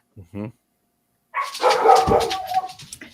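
Several dogs barking, a couple of quick yips followed after a pause by a louder jumble of barking and whimpering from more than one dog, with voices mixed in.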